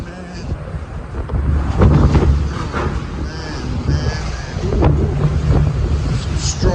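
Strong Hurricane Zeta winds roaring and buffeting a microphone outdoors in the New Orleans area, a loud continuous gusting rush with rising and falling surges, and a voice briefly exclaiming.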